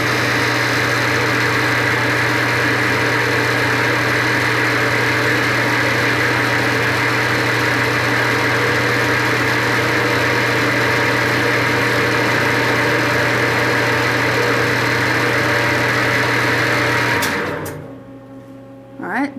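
A machine tool cuts a groove into the end of a shaft, giving a steady motor whine with a low hum that runs throughout, then winds down near the end.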